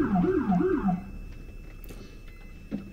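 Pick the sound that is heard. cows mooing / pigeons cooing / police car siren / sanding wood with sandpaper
police car siren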